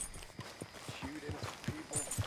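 Horse hooves clop at a slow walking pace in the Red Dead Redemption 2 video game, a series of soft, muffled steps heard faintly beneath low background noise.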